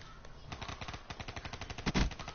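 Rapid bursts of gunfire crackle in quick succession during a Call of Duty: Black Ops 3 match, with shots of moderate loudness rising to a heavier blast near the end.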